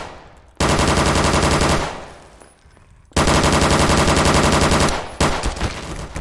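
Loud automatic gunfire in Gmod DarkRP, fired in two long sustained bursts separated by a short gap, with a third burst starting near the end; no one speaks.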